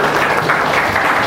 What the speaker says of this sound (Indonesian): Berikan tepuk tangan untuk.